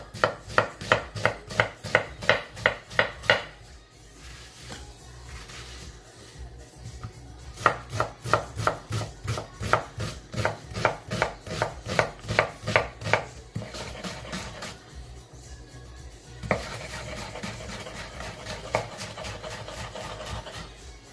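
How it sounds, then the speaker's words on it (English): Knife dicing half a medium onion on a cutting board for mushroom soup, rapid rhythmic chopping in several close bursts separated by short pauses and quieter scraping, no talk. "Take out the core, just give it a quick dice."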